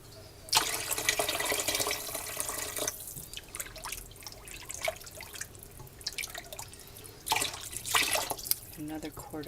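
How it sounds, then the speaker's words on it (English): Water splashes in from a faucet or jug, with bursts of pouring and dripping into a soup pot that already holds a quart of chicken broth for corn chowder. Two louder pours stand out against a quiet kitchen background. "and I'm going to put some water."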